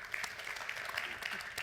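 Audience applause at a journalism conference session, a brief spell of quiet scattered clapping from a seated crowd, heard at a distance with no talking over it.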